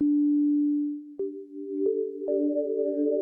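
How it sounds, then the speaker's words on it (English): A steady, pure synthesizer sine-wave tone hums, stepping upward into added higher tones with soft clicks at each change, layering into a smooth chord. "I could also go to the sine waves"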